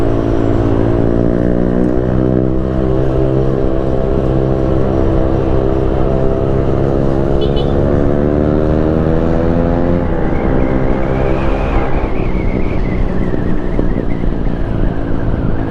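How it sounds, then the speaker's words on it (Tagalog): Yamaha Aerox 155 scooter engine running rough, a loud close idle-to-rev drone with shifting pitch, heard steadily throughout and without any talk. "Medyo magaspang na yung takbo ng motor natin."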